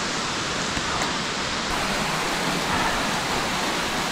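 The lone waterfall on the Tiger Leaping Gorge high trail roars in a dense, constant wash of falling water, steady and fairly close, with no voices.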